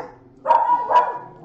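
Indoor dog barking nearby, two short muffled woofs in quick succession followed by a faint start of a third, heard alone without talk.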